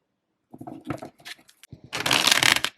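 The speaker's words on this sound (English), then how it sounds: "Let's do a little riffle shuffle." A cheap tarot deck being riffle shuffled: a few soft taps and flicks, then a dense, rapid fluttering burst of cards interleaving, close by.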